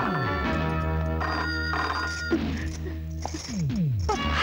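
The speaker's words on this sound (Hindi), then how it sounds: "लगता है उसी का फोन है, फोन उठाओ।" A telephone rings repeatedly with bright electronic trills, mixed with music and chattering voices underneath.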